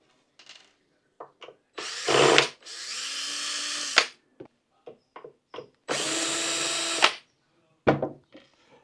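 A power drill unscrews the Loctite-secured skid plate screws on an Ecoroad EC6 electric scooter, running in two long whirring bursts with shorter spins and clicks between, close and loud.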